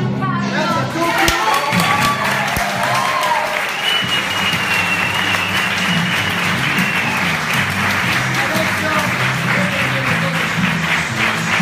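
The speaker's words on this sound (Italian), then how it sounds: "Un applauso a Giancarlo!" Sustained applause from a live audience at an event, steady and dense clapping with some crowd noise and a few thumps, with voices faintly mixed in throughout.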